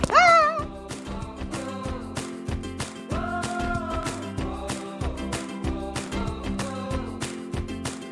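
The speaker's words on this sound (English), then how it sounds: "my cat is trying to attack me" A house cat meows loudly and close once at the start, then gives a longer, softer meow partway through, over a steady rhythmic backing of music.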